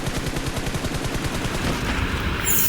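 Rapid automatic gunfire from BGMI crackles in a steady, dense burst of closely spaced shots, loud and continuous, ending with a brighter blast at the close.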